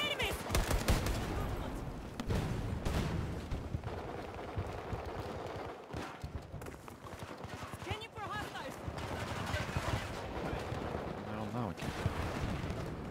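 Rapid gunfire from a shooter video game crackles continuously in dense bursts and explosions, mixed with game audio under and around the noise.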